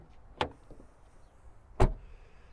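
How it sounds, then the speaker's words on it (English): A 2023 Renault Austral unlocks itself as the keyless key approaches: two sharp mechanical clunks about 1.4 seconds apart, close by and distinct against a quiet outdoor background. "you're gonna see the car will just unlock since the key is in my pocket"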